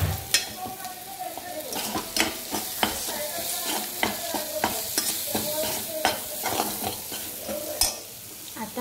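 Paneer and capsicum frying in a pan over medium heat, a steady sizzle broken by repeated rhythmic scrapes and clinks of a spatula stirring against the pan.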